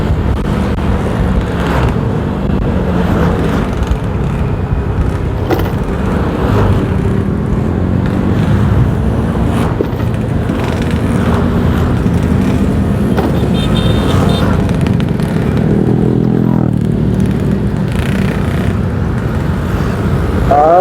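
Busy weekend road traffic streams past a moving motorcycle: a constant engine and road roar, with passing vehicles swelling and fading and faint horn-like tones now and then, all heard from the saddle with no talk.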